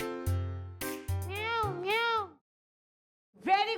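A voice imitates a cat meowing in a classroom-style quiz, giving two drawn-out rising-and-falling meows close to the microphone, then a shorter one after a brief silence, with some talk at the start.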